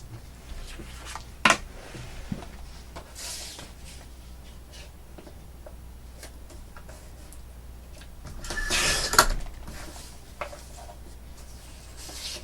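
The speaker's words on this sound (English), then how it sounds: "that noise is my paper trimmer" Faint scraping and rubbing from a paper trimmer, with a couple of sharp snaps and a longer grinding slide partway through, close but quiet against a low background hum.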